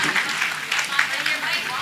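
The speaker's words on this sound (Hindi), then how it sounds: "जोरदार तालियों से स्वागत कीजिएगा हर दिल अजीज हमारे अज़्म शाकिरी जी" An audience at a mushaira poetry gathering in Ballia applauds to welcome a poet, a dense, steady wash of clapping that fills the full stretch at moderate loudness without letting up.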